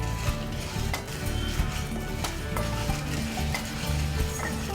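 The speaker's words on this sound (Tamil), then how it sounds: "பெருங்காயத்தை தனியாக வறுக்கணும் இல்லையா?" Asafoetida dry-roasts in a pan, giving a quiet, continuous crackle with faint scraping taps of stirring and no speech.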